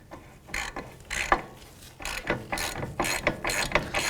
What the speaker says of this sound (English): now we're gonna tighten down our nylon lock washer up top